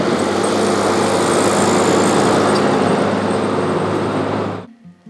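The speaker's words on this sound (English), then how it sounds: "he's great with a tractor and making a lot of progress on trying to get everything plowed." A tractor plowing slush and snow on a farm, a steady, loud engine drone holding continuously before cutting off abruptly near the end.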